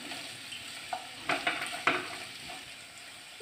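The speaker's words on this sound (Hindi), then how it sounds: "चॉप ऑनियन को फ्राई कर लेंगे" Chopped onion frying in a pan for paneer chilli, a soft continuous sizzle broken by a few sharp stirring clinks and scrapes near the middle, close up with no voices.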